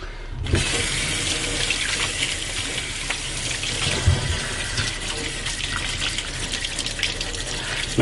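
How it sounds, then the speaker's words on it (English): Cold tap water runs steadily into a sink while cured bacon is rinsed under it, a close, continuous splashing stream with small irregular spatters throughout. "Make sure you rinse it with cold water, not hot water."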